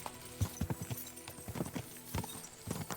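Horse hooves clip-clop in Kingdom Come: Deliverance II, a steady walking rhythm of fairly close, moderately loud knocks repeating throughout without talk.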